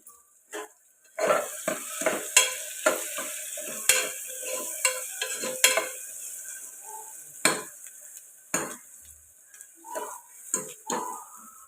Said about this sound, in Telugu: ఉల్లిపాయలు ఎలా ఫ్రై అవుతున్నాయి కదండి ఇప్పుడు ఇందులోకి కరివేపాకు వేసుకుందాం